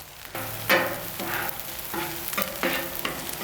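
Fried rice with eggs and vegetables sizzles steadily in a hot pan while it is stirred, with sharper scraping bursts about every half second and no voices.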